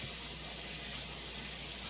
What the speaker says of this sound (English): I just rinse it with cold water.